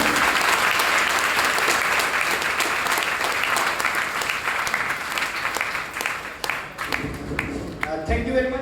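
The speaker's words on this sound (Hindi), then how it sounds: "एक बार ताली बजा सकते हैं?" A seminar audience claps together in sustained, dense applause that fills the room and then thins out toward the end, where a voice starts to talk.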